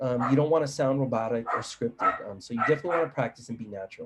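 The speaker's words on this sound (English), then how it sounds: "Sorry about my dog in the background," A dog barks and yips intermittently in the background while a person speaks steadily over it.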